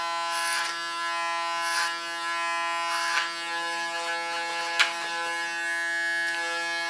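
Close, steady buzz of an electric hair clipper cutting a man's hair, with a few brighter bursts as the blade moves against the skin and through the hair, and no talking.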